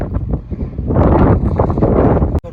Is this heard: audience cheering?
no